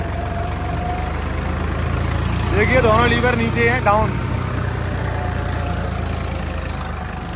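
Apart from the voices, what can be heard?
Swaraj 855 4x4 tractor engine pulling 11-tine cultivator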